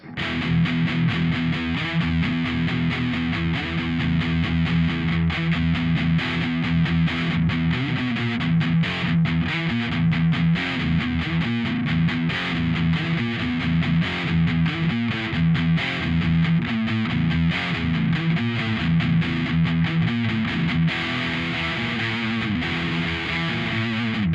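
Heavily distorted electric guitar on the bridge pickup, chugging tight palm-muted notes with a thick, gritty tone through a NuX MG-300, loud and continuous for the whole stretch.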